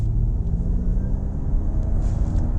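Ford Mustang Mach-E electric car accelerating hard in Untamed mode, a steady low road and motor rumble from inside the cabin with a faint rising whine.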